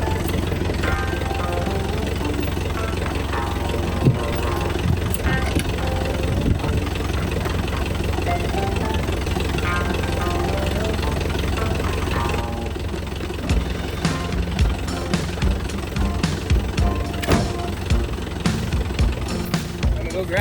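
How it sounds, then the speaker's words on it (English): A farm tractor engine idling steadily with a low throbbing rumble and a knocking mechanical rhythm, continuous and fairly close, with small clunks later on. "So I'm gonna unhook this, hook it to another tractor so we can go mow that."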